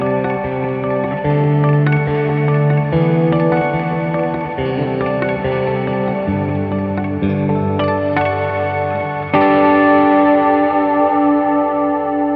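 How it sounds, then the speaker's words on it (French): Electric guitar run through an Ergosphère detuned delay pedal, chords and picked notes repeating in wavering, slightly out-of-tune echoes that blur together, loud and up front with no voices. "Et on a Ergosphère qui est un délai. Voilà, un délai détuné comme ça"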